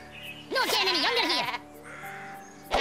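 A cartoonish sheep bleats in the Worms Revolution video game, one loud wavering baa lasting about a second, followed by quieter game sounds.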